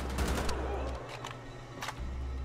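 Gunfire from enemies in Wolfenstein: The Old Blood sounds as a series of quick, fairly faint shots over a low droning rumble, with brief gaps between them.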